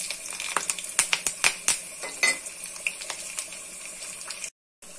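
Curry leaves, garlic and dried chillies crackle and sizzle in a spoonful of hot oil on a stove, with a quick run of sharp pops and spits close by before the sound cuts off abruptly.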